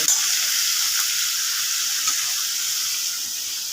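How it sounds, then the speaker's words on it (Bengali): Bottle gourd and potato fry in hot oil for a ghonto, giving a steady, loud broadband sizzle that holds evenly throughout with no talk. "লাউ আলুটা ভাজা হয়ে গেছে এবার আমি তুলে নেব"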